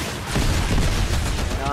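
Rapid turret fire and explosions in the video game Fortnite, with a War Machine skin in play, forming a dense, loud burst of shots under overlapping player talk.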